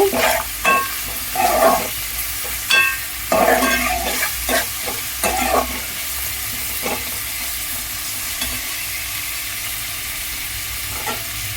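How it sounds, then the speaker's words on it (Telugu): Onions frying in a pan for a homemade curry, with a continuous sizzle broken by several bursts of utensil scraping and stirring during the first half, then a steadier hiss with occasional light taps. "ఆనియన్స్ వేగుతూ ఉన్నాయి."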